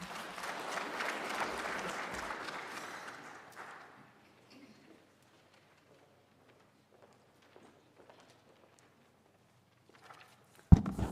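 Applause for the SG at the official launch of the 2023 population and housing census, a full round of clapping that fades out after a few seconds into near silence, ending with a sharp knock.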